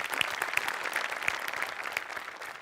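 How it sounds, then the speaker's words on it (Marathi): A studio audience at the Marathi comedy sketch show Maharashtrachi HasyaJatra bursts into brisk, close applause that holds steady and then tapers slightly. "त्यामुळे सगळ्यांकरता एकदा टाळ्या."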